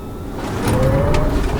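A 2015 Tesla Model S P85D electric sedan pulls away hard, a faint rising electric whine swelling over road and tyre rumble as speed builds, heard from inside the cabin with no one talking.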